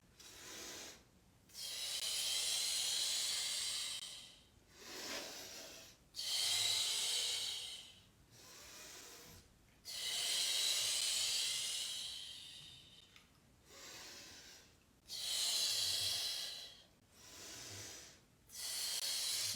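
Deep, slow breathing during an abdominal workout, with long rhythmic hissing inhales and exhales separated by short pauses, close and fairly quiet, with no talking.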